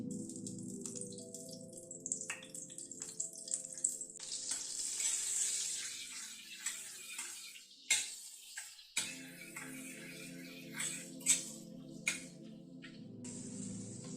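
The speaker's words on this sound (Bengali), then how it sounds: "পাশে একটা কড়াই বসানো হোয়াইট অয়েল দিচ্ছি হোয়াইট অয়েলের সাথে একটা কিউব বাটার দিয়ে দিচ্ছি" White oil and a cube of butter heat in a kadai, giving a quiet crackling sizzle with scattered ticks and pops. The sizzle briefly drops out midway, then resumes.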